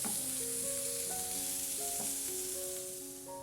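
Garlic, ginger and green chili fry with onion in a pan for dhaba-style chana dal tadka, giving a steady, close sizzle that eases slightly toward the end, with music playing underneath.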